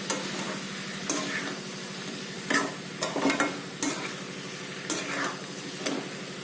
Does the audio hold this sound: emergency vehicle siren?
no